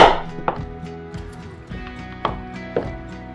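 A knife chops potatoes at a campfire cooking setup, with a few sharp, separate thwacks spaced irregularly over a continuous tonal background.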